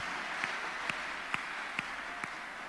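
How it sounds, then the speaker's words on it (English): A church congregation at a deliverance service clapping hands in a steady rhythm, five evenly spaced claps about half a second apart over a continuous roomy hiss, with no talking. "Clap your hands unto the God of the chosen."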